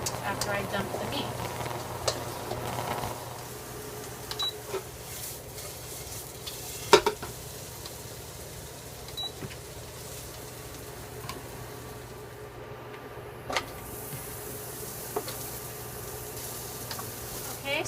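Meat and vegetables stir-fry for fried rice in a wok on an induction cooktop, a soft steady sizzle with scattered clicks and scrapes of stirring, fairly quiet throughout.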